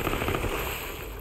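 Dense, sustained gunfire from a weapon in the video game Borderlands 3, a continuous loud burst of shots blurring together with a thumping low end, heard alone.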